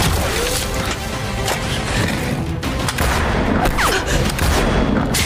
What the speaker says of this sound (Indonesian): kedua sniper itu saling beradu tembakan